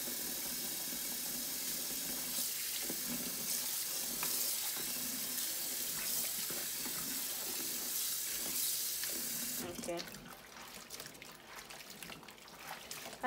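Sorrel is washed under running water from a tap, a steady close hiss of flowing water that changes midway into splashing and rummaging as the leaves are handled, with no talk.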